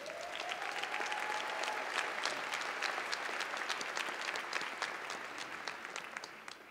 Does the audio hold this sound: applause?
yes